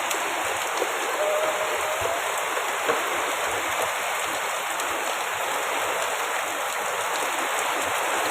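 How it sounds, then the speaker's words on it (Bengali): Heavy rain pouring down in a sudden downpour, a dense, unbroken hiss of falling water that stays even and loud from start to finish. "এত জোরে বৃষ্টি হচ্ছে বলার নেই তোমরা আওয়াজটাই একবার শোনো"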